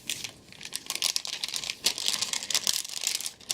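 Plastic wrapping crinkling and tearing as a gift package of straws is opened by hand, close bursts of crisp rustling in irregular clusters, no voices.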